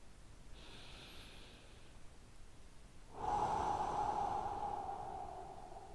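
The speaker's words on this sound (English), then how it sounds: "deep breaths again" A person takes slow, deep breaths during a guided warm-up for a beginner running program, heard close and soft: a faint inhale followed by a longer, louder exhale.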